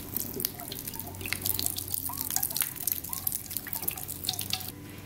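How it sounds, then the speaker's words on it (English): Chicken broth is poured from a can into cornbread dressing, giving a steady close trickle with bright splashing drips running the whole time at moderate loudness. "now we're just gonna pour in some of our chicken broth"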